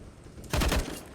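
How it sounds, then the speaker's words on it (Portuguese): A short burst of gunfire on the Overpass map in Counter-Strike, a rapid cluster of muffled shots lasting well under a second, fairly loud over a quiet game background. "Esse tiro foi no banco lá de cima, velho."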